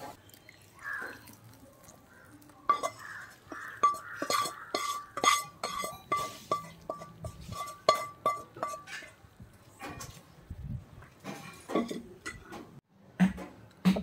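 Fried raisin garnish stirred into rava porridge in a pot, giving a run of quick, close clinks and soft wet dripping stirs that pulse steadily for several seconds, then taper into scattered scrapes.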